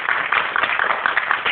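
An audience applauding after a speech at a Tamil literary event on Kamban, steady clapping from many hands all the way through a brief stretch.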